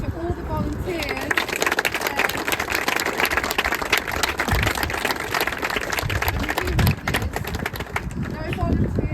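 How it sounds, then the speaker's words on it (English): An outdoor crowd at a parkrun applauding the volunteers, a dense continuous patter of clapping lasting several seconds, with voices talking over it. "can we give a round of applause to all the volunteers?"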